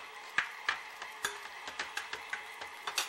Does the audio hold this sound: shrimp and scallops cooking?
yes